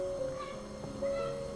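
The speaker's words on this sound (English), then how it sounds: "Oh, we got a kitty coming out." A cat in a video game lets out a soft meow over a steady game music tone, brief and fairly quiet.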